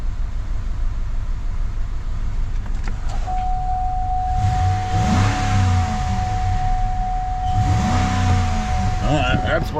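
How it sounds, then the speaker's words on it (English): A car engine just restarted after its fuel rail ran dry, running rough as steady low engine noise fills the whole stretch, with a sustained whine running through the middle and voices talking over it. "It's gonna run like doo-doo at first because there was no fuel in the fuel rail."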